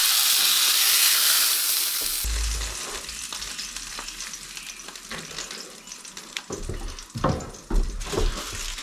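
A thick-cut ribeye steak sizzles loudly in a hot pan, steady crackling and spitting fat, with stirring and scraping noises added partway through, with no voices.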